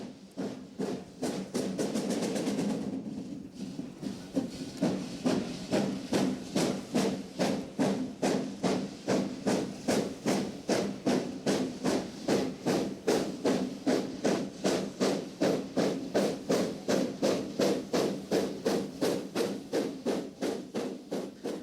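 A 1920 Alco steam locomotive at work at the Orlando Gonzalez Ramirez sugar mill in Cuba gives a long run of even, rapid exhaust chuffs, moderately close, with a brief hiss of steam near the start.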